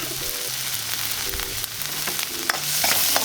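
Garlic and vegetables stir-fry in a hot pan for a cashew chicken dish, a loud continuous sizzle with scraping and clattering spatula strokes and a few sharp knocks, no talk.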